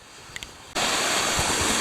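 A brook rushes beside a mountain hiking trail in the White Mountains, a steady broadband wash of water that swells suddenly to full loudness after a couple of faint clicks.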